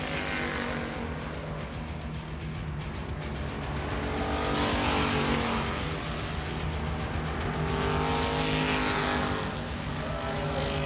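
Race cars roar around a short track at a family fun night in New Smyrna, a continuous dense engine drone swelling as packs pass close, with rising and falling revs and no speech.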